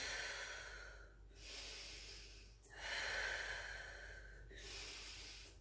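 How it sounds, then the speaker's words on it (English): Slow, audible Ujjayi breaths drawn in and out through the nostrils during a yogalates session, each long airy hiss rising and falling in a steady cycle, close and alone without speech. "Breathing in and out through the nostrils."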